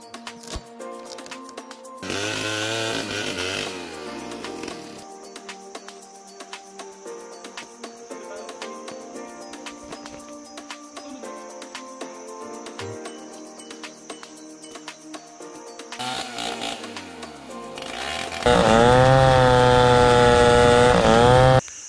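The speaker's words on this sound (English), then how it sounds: "that chainsaw is loud" Chainsaw ripping a wooden plank in the bush, a whining two-stroke engine that alternates between idle and loud full-throttle cutting bursts, with the longest heavy surge near the end.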